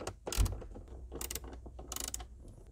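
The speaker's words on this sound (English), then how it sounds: "Now with the Phillips bit, let's remove this screw." A Phillips screwdriver backing a screw out of the glove box of a W220 Mercedes S-Class, giving quiet ratcheting clicks and scraping in short bursts, close and faint.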